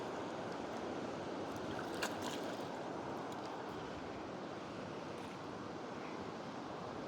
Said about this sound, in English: Pretty fun little kayak ride, I can tell you that.